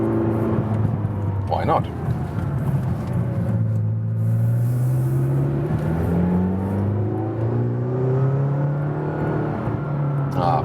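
A McLaren GT supercar climbs a hill in agile driving, its engine rising and falling steadily through gear changes under someone talking from inside the cabin.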